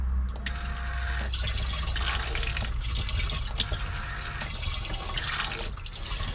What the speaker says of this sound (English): Okay, I'll open this up to let the water right through.